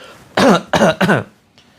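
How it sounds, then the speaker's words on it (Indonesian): Three deliberate coughs in quick succession during a group prayer healing session, loud and close, each a harsh burst, followed by a faint fourth cough. "Terus kemudian kita batuk-batukan."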